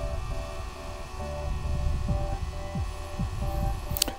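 DJI Mavic Air drone flying nearby, a steady buzzing propeller whine with throbbing low hum, continuous and fairly close, with a brief sharp click near the end.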